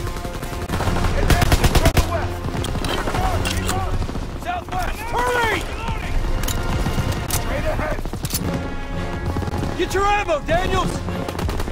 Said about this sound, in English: Those MGs are ripping us apart!